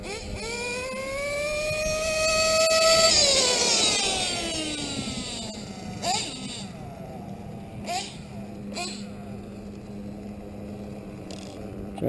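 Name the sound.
car engine revving at full throttle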